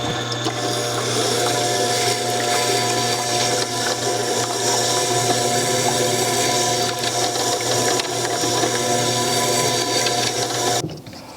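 An iron plane blade being sharpened on a powered sharpening setup gives a steady, continuous mechanical whir with a faint grinding edge, loud and unbroken for about eleven seconds before stopping abruptly.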